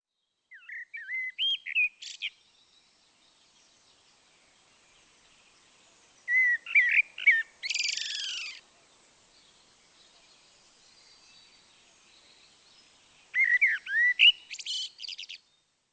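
Songbirds chirp and sing in three separated bursts of bright, high twittering phrases during a quiet spring lockdown, clear and fairly close against near silence.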